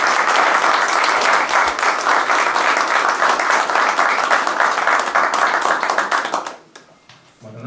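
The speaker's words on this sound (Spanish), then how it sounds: "así que un fuerte aplauso para eso." A festival crowd at the 48th Fiesta Nacional del Salame Quintero gives loud, dense applause that holds steady for about six and a half seconds, then drops away quickly to near quiet.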